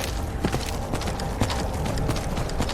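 Horse hooves galloping in the video game Skyrim, a steady rapid clip-clop rhythm that runs continuously at a loud, even level with no talking.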